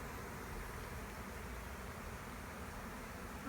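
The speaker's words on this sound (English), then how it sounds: "now you got a bunch of bees right around your ankle" Honeybees buzzing steadily and close around a person wearing a bee beard, a soft continuous hum with no voices.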